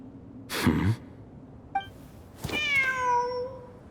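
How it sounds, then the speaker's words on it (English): A cat meows in the Genshin Impact video game, a short cry, a brief chirp, then a longer drawn-out meow, close and clear with no talk. "Wait, there it is! The cat!"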